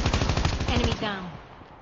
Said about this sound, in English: the recoil on these guns are next level